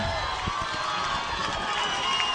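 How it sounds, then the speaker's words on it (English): A packed stadium crowd at a high school football playoff game roars steadily at close range, a dense sustained wash of cheering and shouting as the team lines up on the goal line. "Listen to this crowd."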